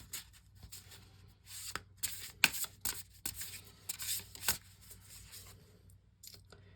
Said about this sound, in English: Pick up a couple more cards.